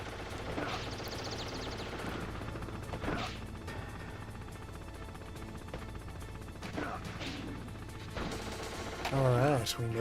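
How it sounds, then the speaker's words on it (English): Gunfire and heavy impacts from a Hind helicopter during a rappel sequence in Metal Gear Solid, bursts and crashes over a constant mechanical drone and game music, with brief voice-like sounds near the end. "you should be able to dodge the gunfire from the hind while you rappel down"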